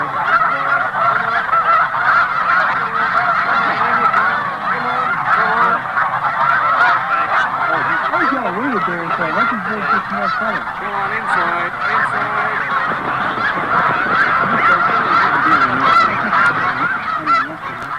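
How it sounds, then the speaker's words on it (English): A large flock of snow geese being herded into a pen honk continuously, a dense overlapping chorus of nasal calls close by and loud for the whole stretch, with no talking. "the only movement they're interested in is the one that will take the geese into the pen"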